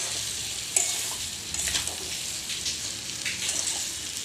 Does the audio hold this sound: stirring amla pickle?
yes